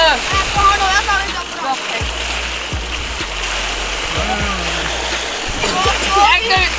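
Repeated splashes and churning water nearby as people play a team lap game in the water at a village water pump, with voices shouting and talking throughout.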